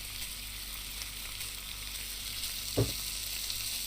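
Steady sizzling of salmon frying in a pan in the video game Cooking Simulator, a continuous hiss with one brief soft clunk near the end, no talking.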